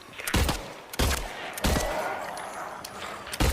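A 9mm handgun fires in the Silent Hill 2 video game: four heavy, booming shots spaced unevenly, each followed by a lingering echo under continuous game ambience.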